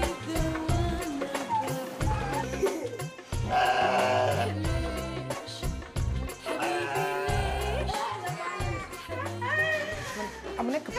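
A sheep in Tunisia, kept for slaughter at an engagement celebration, bleats repeatedly in wavering cries while people talk loudly close by.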